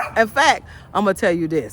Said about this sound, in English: That's my dog, seeing a neighbor.